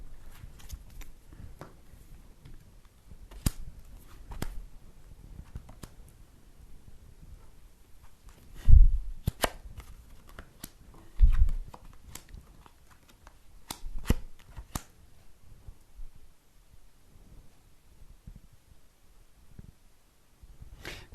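Tarot cards being shuffled during a live psychic reading: soft, close riffling and slapping of cards in a quiet room, with a few louder thumps as the deck is squared or set down.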